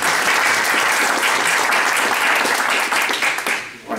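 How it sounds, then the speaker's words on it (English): Audience at a local party meeting breaks into steady, dense applause for an elected state senator, loud and sustained for several seconds before tapering off at the end. "Let's give Shane a round of applause."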